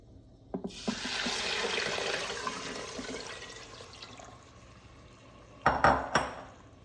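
Water poured into a crock pot while making rice zarda, a steady rushing pour for several seconds, then a few clattering knocks of kitchenware near the end, close and without talk.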